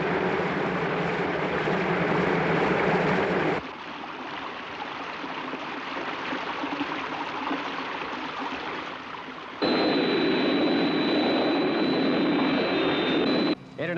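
Thunderbird 1, a rescue aircraft from the Thunderbirds puppet series, roars along in steady, loud flight, its broadband jet rush shifting in level partway through, with a thin high whine rising near the end.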